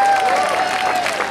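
Loud audience clapping for campaign organisers at an Orgreave justice campaign gathering, a short continuous burst of applause with a voice heard over it.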